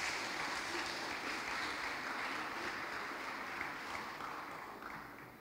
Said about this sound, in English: let's just give them a round of applause for coming on board this year